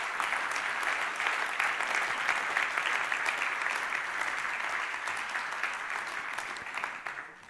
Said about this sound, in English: A big applause for these 25 scale-ups